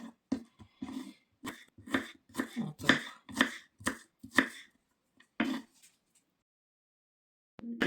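Knife chopping vegetables into thin strips on a cutting board for a radish, cucumber and ham salad, a quick run of sharp, close chops in an irregular rhythm that stops, then a single chop near the end.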